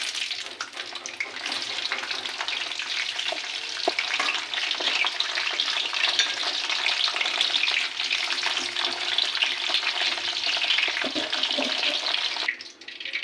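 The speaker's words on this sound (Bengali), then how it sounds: "তেলটা গরম হয়ে গেছে, আমি এবার ক্যাপসিকামটা দিয়ে দেব।" Capsicum frying in hot oil for chicken Manchurian, a loud, dense, continuous sizzle close up that holds steady throughout and cuts off abruptly near the end, with no voices.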